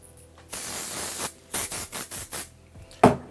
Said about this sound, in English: I just want to spray it.